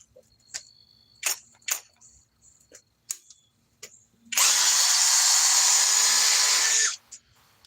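A Flex cordless drill driving a screw in speed 2 runs in one loud, steady burst of about three seconds, after scattered clicks and taps, then stops sharply with light handling noise after.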